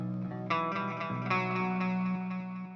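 A synth or instrument line runs through a ping-pong delay, notes repeating in quick echoes that bounce between left and right, steady and moderately loud with no voices.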